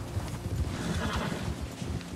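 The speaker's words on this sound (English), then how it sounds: "my horse didn't want to calm down" Horse in Red Dead Redemption 2 neighing and whinnying close by, mixed with restless hoof clip-clops over a short agitated burst.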